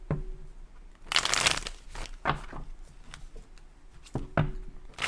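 Tarot cards being shuffled close up, several brisk riffling bursts separated by short pauses, no talking.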